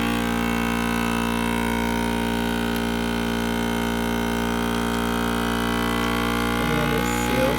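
FoodSaver handheld vacuum sealer running, a steady close motor hum with a strong even tone lasting throughout, with light clattering toward the end.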